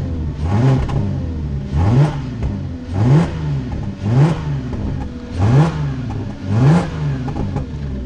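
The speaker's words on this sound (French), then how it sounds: "Petite fuite à l'échappement" A Porsche Cayenne V6 with a small exhaust leak revs repeatedly in six evenly spaced bursts, each rising and falling, heard close and loud over a steady idle.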